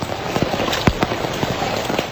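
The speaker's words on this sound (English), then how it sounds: "This relentless rain will only get heavier in many areas" Heavy storm rain pours steadily, a dense constant hiss with scattered louder drops and splatters striking surfaces close by, no voices.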